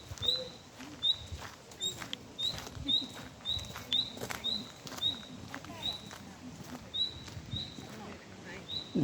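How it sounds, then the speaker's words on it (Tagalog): A very small bird in a Berlin garden gives loud, sharp high chirps in a steady repeated series, close by, over faint background rustle and ambient noise. "Lakas ng huni ng napakaliit na ibon."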